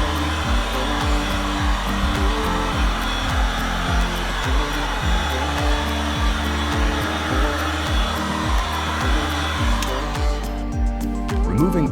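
Hair dryer blowing steadily at close range to dry an interior surface before applying a cover, a continuous whooshing drone with a regular pulsing undertone throughout, briefly shifting near the end.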